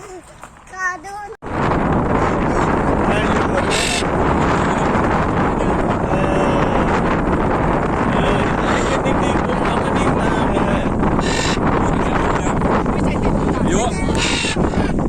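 Strong wind buffets the microphone outdoors, a loud continuous roaring rumble that kicks in abruptly after a brief quieter start and persists throughout, with voices faintly audible at moments.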